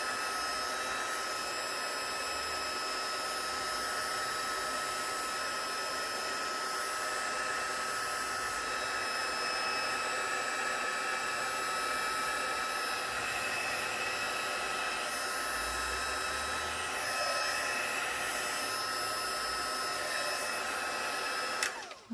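Heat tool running on high while drying distress inks and oxides for papercraft, a steady, unbroken fan-and-heater whine that holds at an even level throughout and cuts off at the very end.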